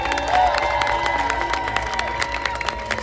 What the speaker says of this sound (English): Give them a prideful cheer.